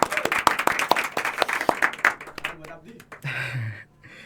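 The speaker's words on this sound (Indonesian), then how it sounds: "Tepuk tangan untuk kita semua." Audience applause at an Indonesian campus community-service talk event, a burst of clapping that fades out over a few seconds, with a voice speaking over it.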